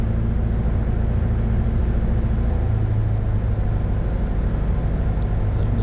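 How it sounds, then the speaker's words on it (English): Light aircraft engine at night on approach to landing at Atlanta's KPDK, a loud steady drone whose pitch shifts slightly as power is added and reduced. "you can hear the RPMs changing as I'm like adding a little bit more power, taking out a little bit"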